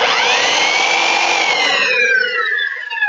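An electric sander in a woodworking shop whines loudly up close, its high motor tone steady and then falling in pitch as it winds down after the trigger is released.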